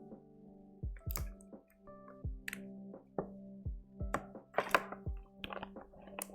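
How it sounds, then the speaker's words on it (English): Someone drinks water up close and quietly, with a regular series of soft gulping swallows about every half second to one second and faint wet clicks between them. "I will just drink a little bit of water"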